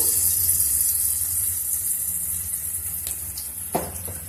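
Green chillies and spices frying in a pan while making curry leaf pulihora: a steady bright hiss of oil sizzling throughout, with a couple of faint scraping clinks near the end.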